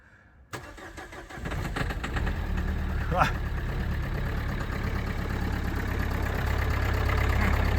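A Renault Megane 3 1.5 dCi (K9K) engine cranks and catches, then settles into a steady, close idle that grows slightly louder, with a brief high whine partway through.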